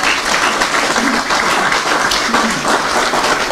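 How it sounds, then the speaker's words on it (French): Applause from an audience at a football federation general assembly, a dense, steady wash of clapping filling the whole stretch at close, even loudness with a faint murmur of voices underneath. "ça mérite beaucoup plus d'applaudissements"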